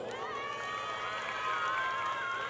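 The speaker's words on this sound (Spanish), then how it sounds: "dígamelo con su aplauso." At a bull-riding contest in Michoacán, a large outdoor crowd cheers and applauds to vote for a ranch's bulls, with sustained shouting and whistling voices over a steady roar of clapping.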